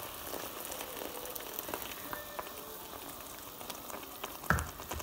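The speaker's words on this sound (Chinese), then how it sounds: "咁我呢就加入滾水，唔好加凍水下。" Boiling water poured into a hot pan of sautéed vegetables for a fuzzy melon mixed-vegetable soup gives a soft, steady, bubbling hiss, quiet and even, with a brief clatter near the end and no talking.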